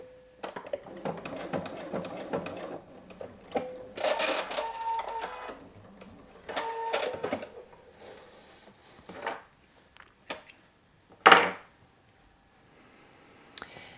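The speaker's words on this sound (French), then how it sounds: "je continue à piquer sur quelques centimètres" A sewing machine stitches a coat lining in short mechanical bursts of rapid needle clatter, separated by pauses, handling clicks and one sharp louder clack near the end.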